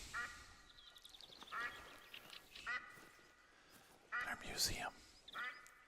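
Duck quacks from the hunting game theHunter: Call of the Wild ring out in short bursts of several nasal calls, repeating across the clip while a person talks over them.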